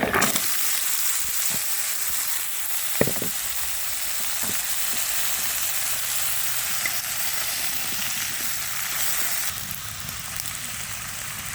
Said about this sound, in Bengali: আমি এখানে দিয়ে দিচ্ছি সামান্য জিরে। এখন তরকারি দিয়ে দিব।